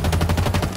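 Gunfire in the Halo Infinite video game: a rapid, steady burst of automatic shots rattling without pause for under a second, loud and close, with no talking over it.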